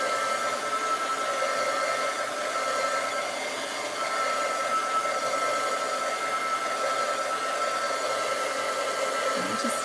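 Steady, loud whoosh of a hair dryer running nonstop up close, drying glue on a Dollar Tree butterfly craft frame, holding an even roar throughout; no talking.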